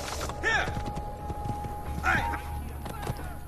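Horse hooves clip-clopping in the Assassin's Creed 2 video game, a few fairly quiet clops in two short bursts over a low background.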